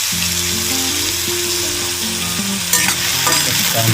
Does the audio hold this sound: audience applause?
no